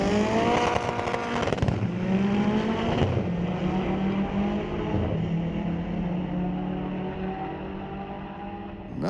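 A turbocharged K20 engine in a 1973 VW Beetle drag racing at a raceway roars loudly as it accelerates through the gears, with rising engine tones and shift breaks, heard near and continuous.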